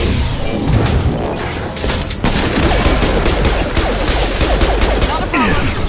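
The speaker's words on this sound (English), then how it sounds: "Taking heavy fire." Heavy, continuous gunfire in the Mass Effect video game, a dense loud barrage mixed with whooshes and crashes, with voices briefly audible beneath the battle.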